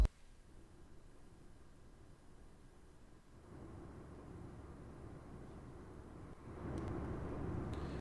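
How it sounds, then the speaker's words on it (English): A recorded airplane cabin drone plays back, a low steady broadband rumble that is quiet at first and grows louder in stages over several seconds, with no talking. "this airplane sound is a little bit quiet"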